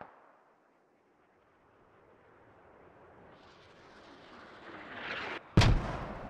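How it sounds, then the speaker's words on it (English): Mortar fire in the military video game Squad: an incoming whistle grows slowly louder over several seconds and ends in a single sharp, loud blast followed by a rumbling tail. "Those mortars a little bit closer"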